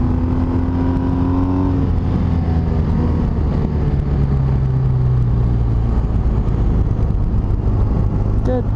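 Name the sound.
BMW R1250RS motorcycle engine while riding on road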